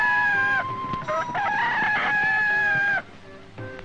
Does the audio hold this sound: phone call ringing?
no